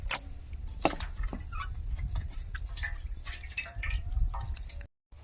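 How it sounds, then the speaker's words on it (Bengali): Washed chicken liver is drained of water, with close dripping and trickling splashes in an irregular patter over a low background rumble. "এগুলো আমি এইভাবে জল ঝরিয়ে আমি এইটাতে তুলে নিই"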